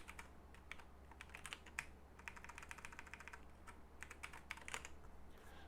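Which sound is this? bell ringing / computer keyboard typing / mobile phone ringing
computer keyboard typing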